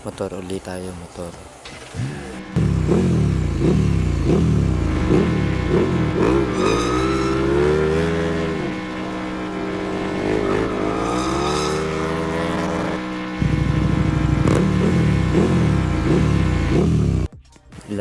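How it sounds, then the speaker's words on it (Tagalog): Bleepy electronic motorbike engine tones from a motor race video game on a handheld brick game console, looping and shifting in pitch, loud and continuous, with someone talking over parts of it. "Motor ulit tayo, motor."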